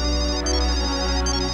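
A mobile phone ringtone plays an electronic tone pattern, loud and close, with repeated high pulses over a steady background for the short stretch; no talking.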